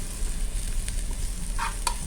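Garlic hitting hot oil in a pot for an omena and egusi stew, giving a steady soft sizzle with a couple of brief stirring scrapes near the end.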